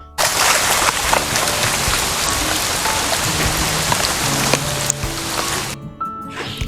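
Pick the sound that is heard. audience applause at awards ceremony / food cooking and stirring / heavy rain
heavy rain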